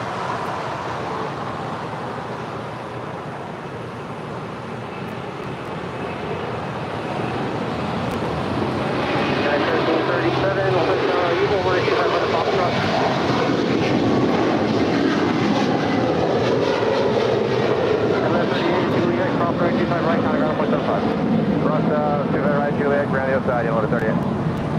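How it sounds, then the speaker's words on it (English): A Qantas Airbus A330-200 taking off at LAX, its jet roar building from a low rumble into a loud, sustained wash of engine noise that holds steady through the rest of the takeoff run. "This is Qantas 56 Heavy departing to Brisbane on an A330-200."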